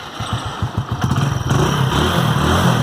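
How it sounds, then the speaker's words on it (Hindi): A motorcycle fitted with an i3S idle start-stop system cranks with a quick stuttering chug, then catches and settles into a steady, close idle. "आवाज़ सुन सकते आप, बाइक स्टार्ट हो गई।"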